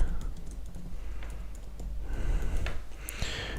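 A name is typed on a computer keyboard in a quiet office, a quick run of soft, close key clicks with no talk.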